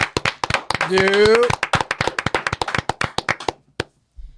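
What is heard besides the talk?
studio audience clapping for comedian Gene Harding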